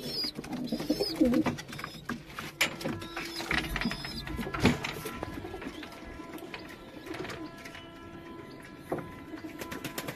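Pigeons in a loft coop with chicks coo while being fed small portions from trays, the soft cooing repeating through a busy, moderately close scene with scattered rustling and clatter.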